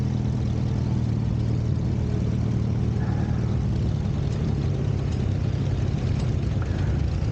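A 1929 Case Model L tractor weighing 6,000 pounds runs at a show, its heavy engine rumbling loud and steady at low speed with a constant throb.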